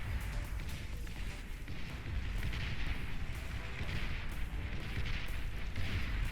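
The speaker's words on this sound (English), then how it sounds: "Amos also getting bombarded by that artillery there from Flash." Artillery bombardment in the real-time strategy game Beyond All Reason comes as a low, continuous rumbling of distant blasts, faint and steady, with soft overlapping booms swelling every second or so.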